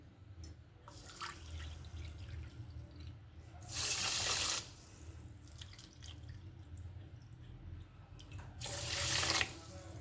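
Tap water runs into a vessel for gulab jamun sugar syrup. It comes as two loud gushing bursts of several seconds each, with quieter drips and sink sounds between them.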